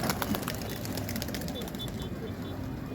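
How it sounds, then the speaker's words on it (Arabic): Pigeons coo softly in a rooftop pigeon loft, low murmuring calls under a steady outdoor hum with faint clicks and ambient noise. "وفي حمام كتير قوي النهارده"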